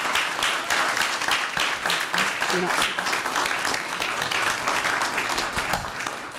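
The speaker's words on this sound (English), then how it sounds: "Let's give them a round of applause." A round of applause fills a city council meeting, dense steady clapping from a crowd that stays loud throughout, with voices talking over it.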